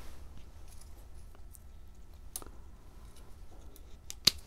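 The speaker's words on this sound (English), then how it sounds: "and cut off the dead part" Scissors make a few faint, sharp snips as they cut the dead part off a fig plant after a 26F freeze, with one crisper click near the end against a quiet outdoor background.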